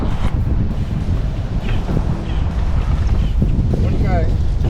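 Strong wind gusts buffet an open-air spot by the water, a loud continuous roaring rush across the microphone with a faint voice underneath.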